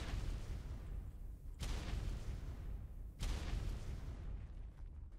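Grenade blasts in the game ARK, two sharp booming onsets a second and a half apart, each followed by a low rumbling tail, then a quieter stretch with no talk.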